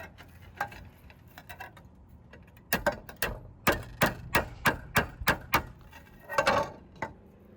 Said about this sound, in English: Get those brackets and screw them into the battens.